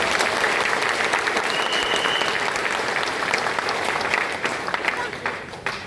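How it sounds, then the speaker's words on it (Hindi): An audience at a business seminar in Sambalpur, India bursts into loud, sustained applause, a dense wash of clapping with a faint voice underneath that tapers slightly at the end. "एक बार जोर तालियां हो जाए सबके लिए जितने लोग यहाँ मौजूद हैं"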